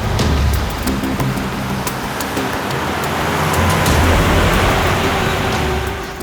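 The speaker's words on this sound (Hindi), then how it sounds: "सर, गाड़ी की आवाज सुनी आपने?" A car arrives at a quiet spot, its engine and tires giving a steady broad rumble that swells slightly and then fades, with no talking.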